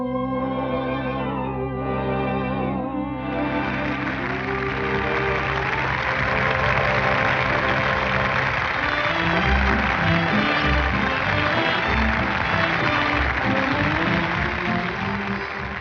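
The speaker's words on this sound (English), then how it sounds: "That noise is applause, isn't it?" Loud, sustained clapping from a large crowd swells over music, growing denser after the first few seconds and continuing steadily.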